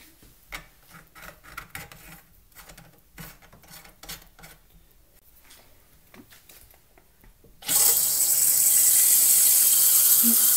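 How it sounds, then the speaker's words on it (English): Tap water gushes steadily through a water-saving faucet aerator, starting abruptly after a stretch of quiet rubbing and handling sounds and running loud and even to the end. "There's less amount of water flow, but the pressure is still good."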